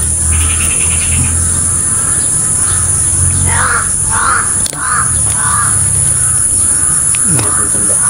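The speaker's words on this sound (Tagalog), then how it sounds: "Daming uwak tol. So, pinag-iikutan kami dito." Crows caw in short repeated bursts nearby, several calls in a row over a steady outdoor hum.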